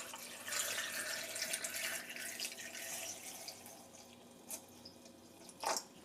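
Orange juice poured into a Ninja Foodi blender cup: a steady, soft liquid pour for a few seconds that trails off, followed by a couple of faint light clinks.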